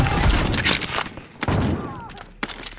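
Gunfire in a shooter video game: a burst of rapid shots and heavy thuds up front, then separate sharp cracks and booms after short gaps, loud and close, with brief game sound effects between.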